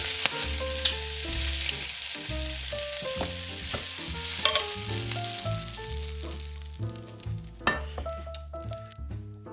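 Prawns stir-fry in a hot pan for a sweet chilli prawn dish, a steady loud sizzle broken by frequent scraping and clinking stirs of a utensil, with no talking.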